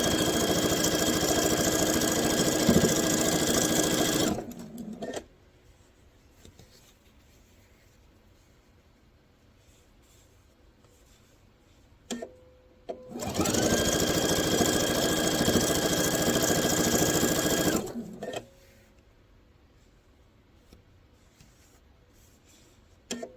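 A sewing machine stitches a table runner in two loud sustained bursts separated by a long quiet pause, each a steady close motor hum.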